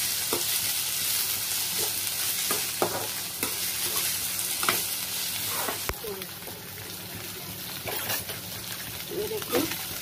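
Cornflakes frying in a pan with salt, giving a continuous close sizzle broken by repeated scraping and clattering stirs of a spoon against the pan.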